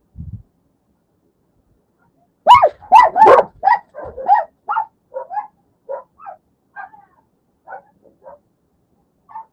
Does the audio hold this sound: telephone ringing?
no